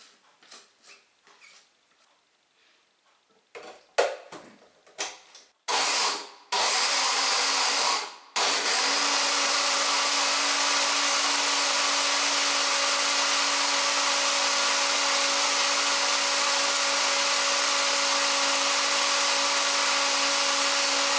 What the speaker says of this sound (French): Je vais le mixer.